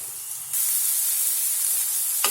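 Finely chopped onion hits a hot pan for batata vada and sets off a sudden loud, broad sizzle after a short quiet start. The hiss holds steady and close, with a brief extra flare near the end and no voices.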